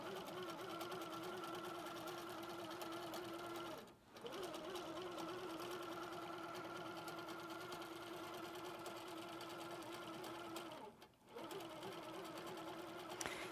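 Steady whirring hum of an HQ Pro-Stitcher computerized quilting machine stitching a block, continuous and even, with two brief pauses in the motor.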